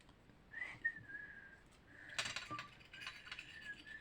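Soft whistling of a short tune in a few drawn-out notes, mixed with mechanical clicks and rattling nearby.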